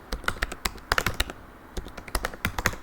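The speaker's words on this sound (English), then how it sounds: "now obviously you're gonna type in the email" Rapid clicking of keys as an email address is typed on a computer keyboard, close and crisp, in quick bursts with a short pause midway.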